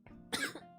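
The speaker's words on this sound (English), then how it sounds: "Excuse me. I need to cough." A single short, close cough from a streamer during a bedtime story reading, quiet and isolated in a fraction of a second.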